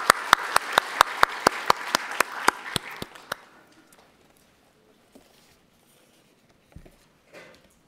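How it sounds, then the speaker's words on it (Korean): A church congregation claps together in praise during a Sunday worship service, a loud burst of applause with sharp, regular claps lasting about three seconds before fading into quiet room noise with a few faint sounds. "우리 살아계신 하나님께 감사와 영광의 박수 올려드리겠습니다."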